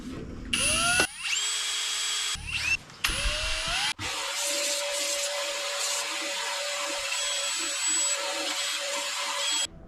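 A drill boring into a small-block Chevy engine part whirs in short bursts with rising pitch, then settles into a long, steady high whine over a grinding rumble.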